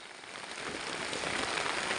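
Steady rain pours down during a fishing trip, a dense, even hiss of drops on surfaces that stays close and continuous, with no voices.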